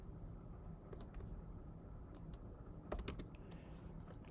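Typing on a computer keyboard, quiet scattered key clicks over a low background rumble, with a brief flurry of faster keystrokes midway.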